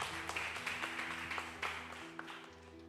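A church congregation applauds during a worship service, with faint, steady clapping from many hands over a sustained low musical tone.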